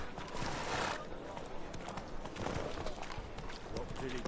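A horse gallops in The Witcher 3 video game on PS4, with rapid, steady hoofbeats close by and a snort or whinny, while voices talk over it.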